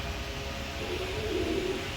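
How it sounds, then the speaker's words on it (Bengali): A pair of big pigeons in a cage gives a soft, low coo that rises and falls once, faint under a steady background hum. "এখানে এক পেয়ার কবুতর দিলাম"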